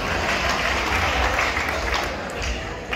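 An audience claps loudly and continuously at a live comedy show, a thick wash of applause with some crowd noise mixed in and easing slightly near the end.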